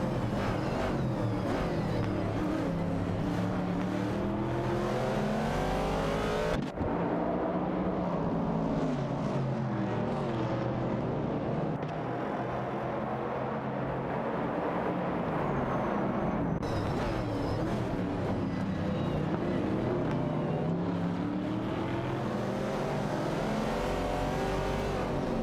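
Racing-game engines from a Pontiac Firebird 70 and a Ford Mustang Boss battling for position, a continuous loud roar with repeated revving and gear-shift dips, no talk.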